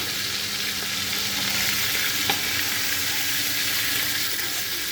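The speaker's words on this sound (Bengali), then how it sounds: "এইভাবে আমি বাকি মাছগুলো ভেজে নিচ্ছি।" Prawns frying in hot oil produce a dense, even sizzle that stays loud and constant, close up, with a faint clink partway through.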